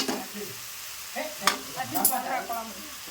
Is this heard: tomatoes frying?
yes